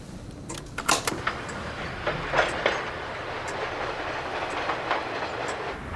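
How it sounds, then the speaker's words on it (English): A tape recording of a passing train with an A62 engine plays back: a steady rolling rumble with sharp metallic clicks and clacks early on, moderately loud and continuous, with no talking. "This guy doesn't just watch the trains, he tapes them."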